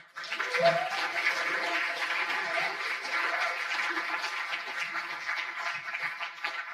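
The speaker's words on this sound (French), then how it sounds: "C'est toujours plus sympa avec les applaudissements." Audience applause at a diploma award ceremony at ENS Rennes, a sustained round of clapping from a crowd in a hall at moderate level, with a voice briefly audible near the start.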